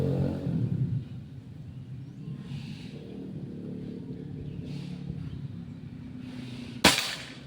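A single sharp crack from a Bocap Pajero Gen 5 PCP air rifle test shot with a GS Dome pellet, heard near the end over low rumbling background noise, isolated and brief.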